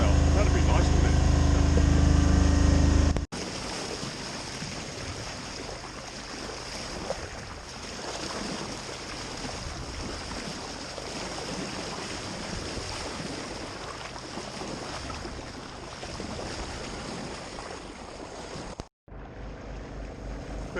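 A sailboat's engine hums low and steady at sea, loud at first and then more distant beneath strong wind buffeting and wave noise, with someone talking.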